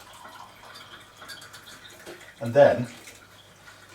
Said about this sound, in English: just put some water in a cup